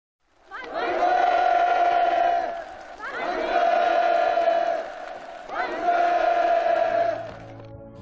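A large crowd of participants at a housing-permit ceremony in a mountain village erupts in loud, sustained chanting and cheering in three long rising waves, close and dense with no single voice standing out.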